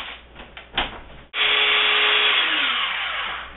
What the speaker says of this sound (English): I'm going to let it whip for a couple minutes